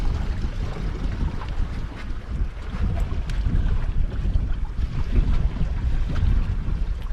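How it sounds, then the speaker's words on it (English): A sailboat cruising under sail with the motor off, on open sea off southern Baja: a steady rush of wind buffeting the microphone and water sloshing along the hull, loud and continuous with no voices. "Sails set, it was time to turn off the motor and cruise."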